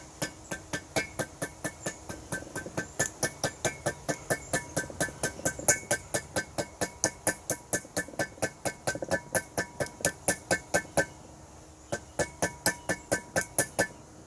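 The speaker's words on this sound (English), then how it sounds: "get a rubber mallet and just tap it all the way around" Steady, even tapping of a rubber mallet on a metal brake rotor of a 2001-2005 Ford Explorer, dozens of quick knocks in a regular rhythm with a brief pause near the end.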